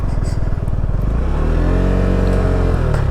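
A motorcycle engine idling and revving up close, with a throbbing low rumble that rises in pitch as the throttle opens, continuous and loud.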